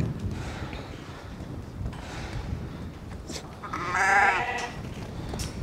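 A single sheep, a ewe or lamb, bleats loudly partway through over steady outdoor wind and farmyard noise, with faint, brief bleats before it.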